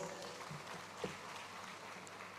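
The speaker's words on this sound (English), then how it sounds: "a round of applause" Faint, steady clapping from a crowd at the Africa Prosperity Dialogues 2026 opening ceremony patters on in the distance, a soft continuous wash of hand claps.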